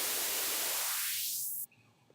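A white noise build made in Ableton Live: loud hiss whose filter sweeps upward, thinning the low end, then cuts off abruptly, leaving a faint tail.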